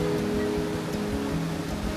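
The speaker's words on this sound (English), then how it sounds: "you can hear the sounds of water" Water flowing at Bomburu Ella Falls in Sri Lanka, a dense continuous rushing wash heard from nearby, steady and broad with no pauses.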